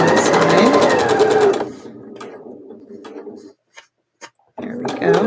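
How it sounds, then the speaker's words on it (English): A sewing machine runs a fast, loud burst while stitching a quilt block seam for a pinwheel block, then slows and stops with a few soft clicks before starting up again. "And sew down that side."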